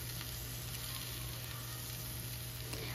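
Eggplant and Malabar spinach stems fry in hot oil in a pan, giving a steady, close, crackling sizzle that holds evenly throughout with no talk.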